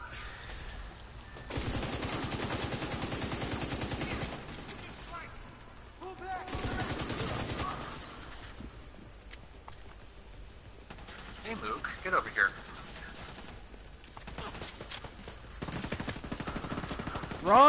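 Gunfire in The Division 2, several long sustained bursts of automatic rifle fire separated by short pauses, with sporadic single shots, clicks and voices in the gaps, loud and close.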